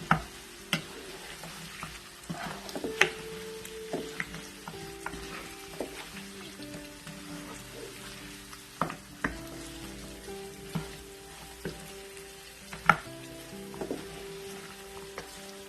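Balochi lagan gosht stirred in a pan over a low flame: a soft sizzle beneath repeated spoon scrapes and knocks against the pan, irregular and close, without speech.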